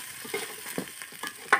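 Onions frying with ginger garlic paste in a pan, a steady close sizzle broken by a few scraping stirs of a spatula.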